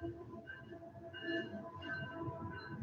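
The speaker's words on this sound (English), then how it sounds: "I got the train going by" A train rolls past outside a large window in a city neighborhood, a faint, distant rumble with soft wheel tones and mild squeals, steady and continuous throughout.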